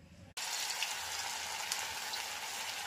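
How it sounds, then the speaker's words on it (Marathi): Slices of coriander vadi drop into very hot oil, and after a short quieter moment a loud, dense, steady sizzle bursts in and holds, close and without talk. "तर कडकडीत तेलात छान तळून घ्यायच्या आहेत"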